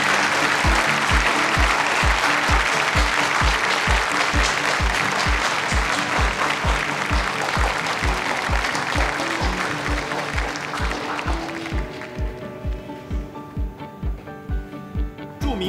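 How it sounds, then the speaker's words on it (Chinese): An audience claps to welcome representatives at a strategic partnership signing ceremony, dense rhythmic clapping that stays loud for several seconds, then thins and tapers off as a sustained tonal backdrop rises beneath. "掌声欢迎"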